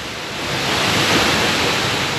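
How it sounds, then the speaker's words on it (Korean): A waterfall near the Hantan River, swollen after rain, pours as a dense, steady roar, loud and close with no voices. "이곳은 어제부터 비가 와서 폭포수가 장관입니다."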